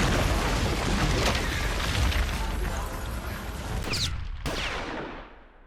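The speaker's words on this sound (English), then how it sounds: "The tension built up during the whole sequence is solved with the big explosion." A big film-scene explosion roars loud and broad, then rumbles and decays, cut off abruptly near the end, with a brief crackling burst before a quick fade to quiet.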